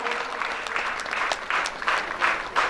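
Rhythmic hand clapping from a seated crowd at a Ramkatha religious discourse gathering, a steady patter swelling in regular pulses for a few seconds with no voices over it.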